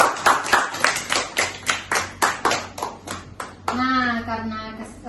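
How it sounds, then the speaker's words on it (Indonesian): A small counseling group claps together in a classroom session: about a dozen distinct, evenly spaced claps ring out close by, then give way to a voice speaking. "tepuk tangan dulu"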